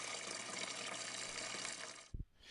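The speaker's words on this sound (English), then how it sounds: "I'm just washing it here in some parts cleaner." Parts cleaner gushes and pours over a wire mesh oil filter being washed, a loud steady liquid rush that cuts off abruptly near the end, followed by a brief splash and drip.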